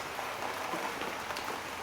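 Steady rain falling on a surface, a dense, even hiss of drops with no break throughout.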